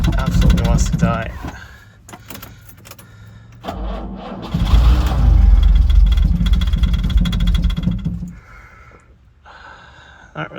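A 1968 Jaguar E-type that has sat unused for years, cranking and catching into a rough, uneven idle that misses on some cylinders and swells briefly when the throttle is touched, with people talking nearby.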